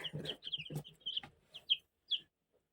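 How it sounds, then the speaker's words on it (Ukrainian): Chickens cluck and chirp close by while being fed, a mix of soft low clucks and higher peeping calls, fading to quiet at the end. "будемо годувати вітамінчиками своїх курчаток"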